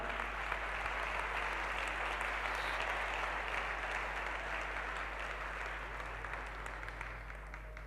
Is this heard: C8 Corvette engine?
no